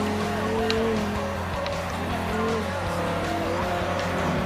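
Race car in Forza Horizon on Xbox One, engine droning with rising and falling revs and tire squeal, steady and loud throughout.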